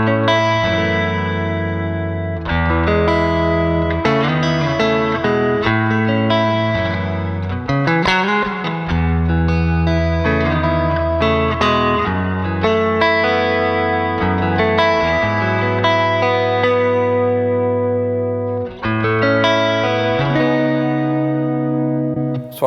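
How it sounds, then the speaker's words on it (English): Electric guitar playing chords and single notes, bathed in reverb with lingering tails, steady and prominent, no voices. "No shimmer this time, just a bit of reverb."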